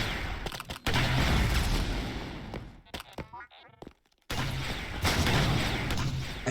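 Dense gunfire from an esports team match, with broadband bursts and booms filling most of the stretch and a brief lull near the middle. It plays loud and close beneath ongoing shoutcaster commentary.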